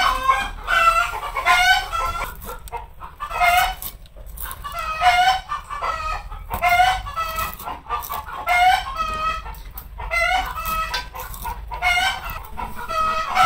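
Hens cluck in a steady, restless run at a village home while vegetables are being cooked, the calls rising and falling in close, overlapping bursts with no talk.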